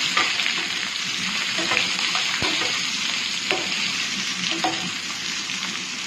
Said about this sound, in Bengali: এরপর টমেটো দিয়ে দিলাম। সব টমেটো একটু নাড়তে হবে।